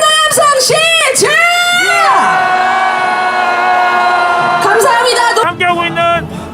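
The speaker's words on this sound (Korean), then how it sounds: "김건희에 대한 분노 함성 시작!" Crowd at a march calling for a presidential impeachment, shouting and yelling in anger with whoops and voices rising and falling together, loud and close throughout.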